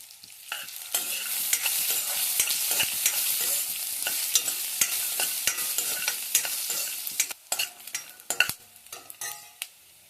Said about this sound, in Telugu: తర్వాత ధనియాలు, తర్వాత పల్లీలు. ఇవి కొంచెం కలర్ వచ్చేదాకా వేయించుకోవాలి.